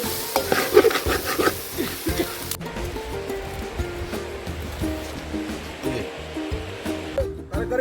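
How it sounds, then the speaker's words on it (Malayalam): A goat head curry masala is stirred and fried in a pan, giving a continuous scraping, sizzling rustle with a few louder stirring strokes near the start. No one speaks. "ഇനി ഇതിൽ കുറച്ച് വെള്ളം ഒഴിച്ചിട്ട് ഇത് കുറച്ച് വേവിക്കുക"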